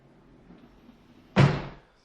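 Big closet door in a house closing: one solid thump that fades quickly, loud and close, after a quiet stretch with faint room noise.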